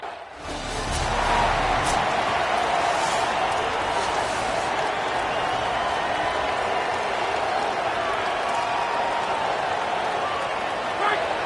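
Stadium crowd at a Washington Huskies football game by Lake Washington roaring continuously, a loud sustained wash of cheering from many voices.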